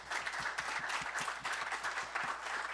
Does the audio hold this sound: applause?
yes